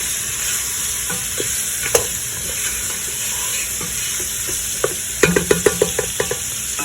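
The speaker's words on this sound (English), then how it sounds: "as you can see, I've been frying the chicken for like a few minutes now" Boiled local chicken fries in a pan for a Malawi-style stew, with a steady dense sizzle throughout and scattered sharp clicks and scrapes of stirring, clustered toward the end.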